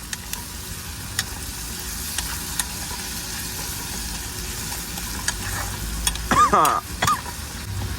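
Finely chopped onions fry in a pan for mutton curry cooked at a truck: a soft, steady sizzle with occasional stirring scrapes and clinks, and a brief voice near the end.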